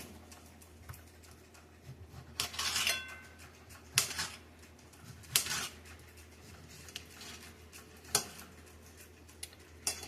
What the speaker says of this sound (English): I'm going to chop my onion and put that on the top of the salad